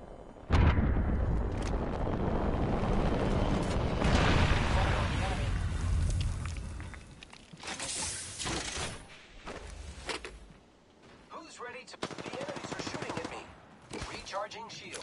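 Enemy gunfire in a video game: loud sustained bursts of automatic shots and explosive thumps close by, with speech-like voices mixed in and the shooting thinning into scattered shots later.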